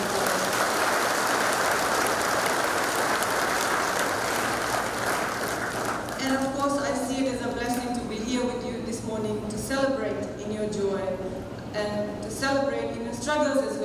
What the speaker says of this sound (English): Can you put a round of applause?